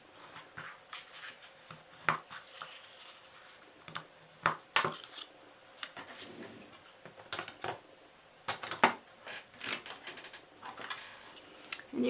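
Craft paper pieces being cut to 3x3 size with scissors, a series of sharp snips and papery rustles close by, irregular and spaced apart, with quiet handling between cuts.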